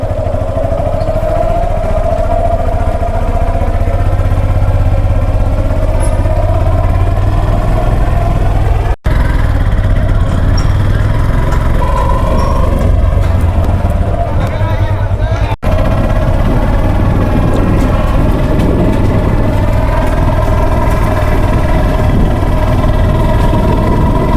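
A motorcycle ridden around a village pond in the evening, its engine a loud, steady droning hum with a rising and falling tone, close and continuous for the whole ride.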